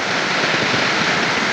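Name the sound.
river stream flowing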